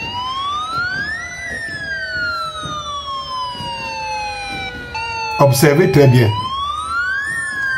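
A wailing police siren sweeps up and down steadily throughout, with a short burst of noise partway through and a voice speaking briefly over it.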